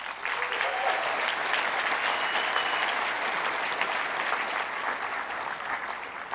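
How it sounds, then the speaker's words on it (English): Steady, dense applause from an indoor seminar audience fills the room continuously, loud and sustained with no pauses, fading slightly toward the end. "Dr. Matt, would you please stand up so people can give you a round of applause?"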